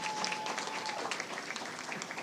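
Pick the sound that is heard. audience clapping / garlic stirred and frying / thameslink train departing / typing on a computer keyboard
audience clapping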